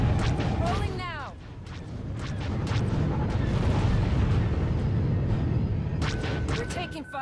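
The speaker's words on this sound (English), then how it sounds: "We're taking fire." Dense, continuous barrage of blasts and weapon fire from starfighters in the Galactic Starfighter space combat game, a 12v12 domination match, with sweeping laser-like tones at the start and end and radio-style voices speaking over the din.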